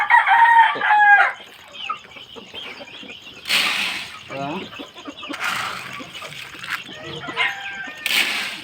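Silkie chickens cluck and a rooster crows at a breeder's pen during feeding, with repeated loud crows and bursts of clucking nearby, mixed with splashing and a voice in the background.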